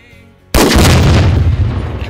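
A Tannerite charge detonates and blows up a television outdoors, a single sudden, very loud boom that cuts in after a quiet moment and rolls on as a sustained roaring blast.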